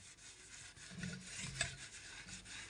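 Scrubbing a washbasin coated in homemade cleaner produces faint, soft rubbing strokes in an uneven rhythm, quiet and close.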